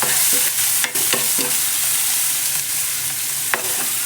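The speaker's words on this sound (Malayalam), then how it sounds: "ഒരു തക്കാളി ഇട്ട് കൊടുക്കുക, ഒരേ ഒരു തക്കാളി. അതിനുശേഷം നമ്മൾ ഒന്ന് വഴറ്റി കൊടുക്കുക." Tomato being stirred and sautéed in a pan for prawn masala, a loud continuous sizzle broken by repeated scraping strokes of a spoon, no voices.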